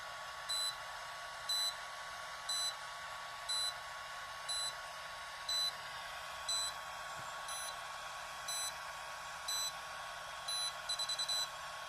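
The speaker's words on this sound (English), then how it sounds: "there will be a series of different beeps and the lights will flicker" Short high-pitched electronic beeps repeat about once a second over a faint hum, ending with a quicker burst of beeps, signalling a game phase change in a laser tag arena.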